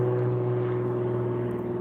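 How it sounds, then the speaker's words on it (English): A regular propeller airplane drones overhead with a steady, even hum and low harmonic tones that hold without a break, and no voices. "Fortunately, that's just a regular plane, not a drone."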